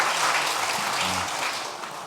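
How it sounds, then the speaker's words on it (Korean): A church congregation applauds, a dense wash of many hands clapping steadily, fairly loud and sustained, tapering slightly toward the end. "박수로 하고 축복하겠습니다."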